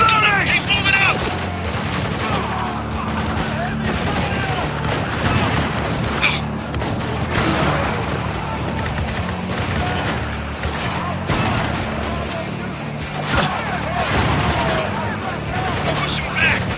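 Heavy, sustained gunfire from the Spec Ops: The Line video game, dense overlapping bursts of automatic weapons with occasional louder booms, loud and continuous throughout with shouted combat voices mixed in.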